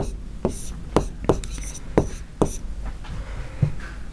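A pen scratches across paper while a math solution is written out by hand, a series of short, crisp strokes in an irregular rhythm, close and moderately loud.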